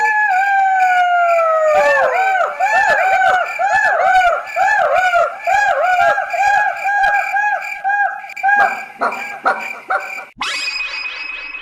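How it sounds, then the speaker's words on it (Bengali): Jackals living in dense jungle behind a house howl at night as a story sound effect: a loud chorus of overlapping, wavering howls rising and falling, with sharp yips breaking in before it cuts to a different noise. "রাত গভীর হলেই তারা ডাকাডাকি শুরু করে দিত।"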